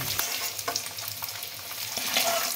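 Red potato pieces fry in a pan with a dense, continuous crackling sizzle, close and steady, with occasional stirring scrapes and no talking.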